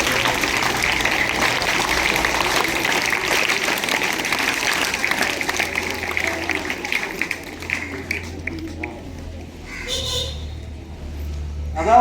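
An audience at a Tamil talk on science gives dense, sustained applause that fades after several seconds into scattered claps and a voice.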